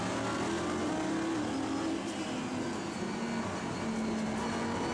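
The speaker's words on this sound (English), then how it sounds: "Ricker Bresch using all the torque he can find in this Corvette, and that's a lot" Corvette race car accelerating hard at the Spa circuit during a Dutch Supercars race, its engine a loud, sustained roar with steady revving, mixed with the surrounding din of other cars on track.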